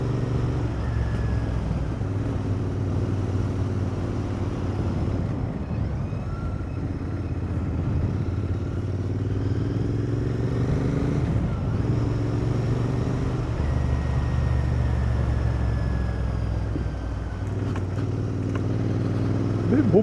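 A Royal Enfield Interceptor 650 motorcycle rides along bumpy countryside back lanes near Barnsley, its twin-cylinder engine droning steadily with gentle rises and falls in pitch under constant wind rush.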